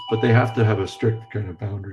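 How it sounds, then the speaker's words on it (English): An electronic doorbell rings faintly in the background of a software talk, a steady tone held under a person's continuous speech. "Apologies for my annoying doorbell in the background."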